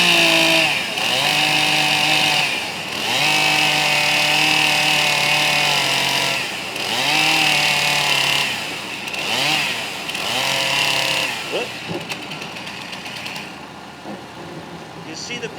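A chainsaw cuts into a wood log at a 45-degree angle, its engine roaring loud and close, rising and dipping in pitch as the bar bites, then tapering off toward the end.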